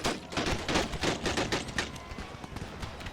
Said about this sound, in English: Right, Gatling guns. I wonder, maybe I should just do this. And maybe more guns will fire.